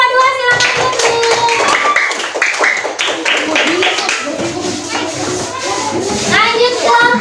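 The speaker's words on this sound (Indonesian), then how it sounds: "tepuk tangan untuk kelompok 2" Classroom of students clapping for a presenting group during a practice teaching session, loud close irregular claps mixed with children's voices chattering over them.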